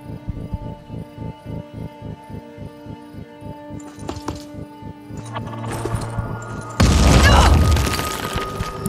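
Grenade explosion in the Phoenix Point video game: a sudden loud, broad blast bursting after rhythmic ticking and whirring game ambience, then decaying slowly.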